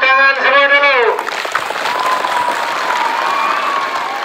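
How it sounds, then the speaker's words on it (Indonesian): A school audience applauds for students, a dense steady clapping that follows a short raised voice at the start and continues evenly to the end. "tepuk tangan semua dulu"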